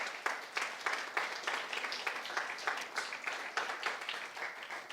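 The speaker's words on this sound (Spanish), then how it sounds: "Denle un fuerte aplauso al Señor." Loud, rhythmic clapping from a church congregation, with regular pulses of many hands striking in unison at a brisk tempo, sustained for the full five seconds.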